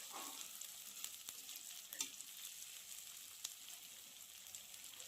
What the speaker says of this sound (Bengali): পেঁয়াজটা খুব সুন্দর করে ভেজে নেওয়া হলো।